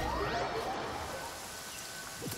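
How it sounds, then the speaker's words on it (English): Steady rain falls in a video game during a film-festival quest, a dense, even hiss of drops with faint rustling, continuous and fairly close with no talk over it. "Oh, damn, it's raining."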